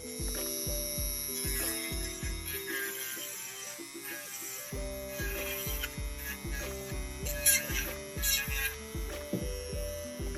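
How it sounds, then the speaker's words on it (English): An electric nail drill fitted with a ceramic cone bit works the underside of an acrygel nail, a steady motor whine with rhythmic grinding pulses, briefly stopping midway before resuming, close and fairly quiet. "I will switch it out to this cone bit here, the ceramic bit, and I'll use it for my underside of the nail"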